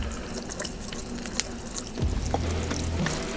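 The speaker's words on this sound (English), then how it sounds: "I'm gonna add a little bit of water to thin these out." Water trickles and drips into refried beans on a griddle, small wet splashes over a low background hum, picking up slightly toward the end.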